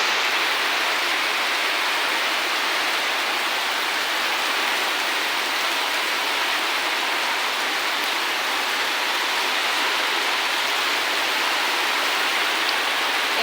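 Heavy, storm-driven monsoon rain pours down steadily outside a house, a dense, loud, unbroken wash of water with no pauses and no voices.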